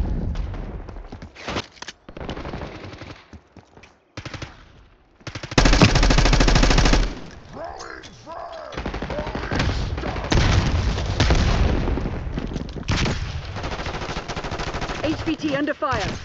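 Video game gunfire in a combat match: scattered shots and bursts give way to sustained loud machine-gun fire and booms, close and intense, with radio-style voices talking over parts of it.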